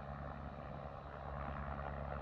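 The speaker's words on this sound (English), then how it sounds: "this helicopter particularly is a smaller helicopter" A smaller helicopter operating in Antarctica, heard as a steady, fairly faint engine and rotor drone throughout, with no other sounds over it.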